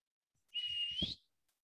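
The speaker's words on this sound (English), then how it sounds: "Simple, same whistle coming again and again. So this is called as a call. Now, it's the same bird, our same magpie robin fellow" A single recorded whistle call of an oriental magpie robin, one clear sustained tone lasting about half a second that rises slightly at its end, heard alone against silence.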